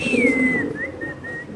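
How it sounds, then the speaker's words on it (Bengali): Short face pigeons on a pigeon farm give a low, soft coo close by, with a thin whistling tone sliding over it. "একজোড়া শর্ট পেজ কবুতর ভাই"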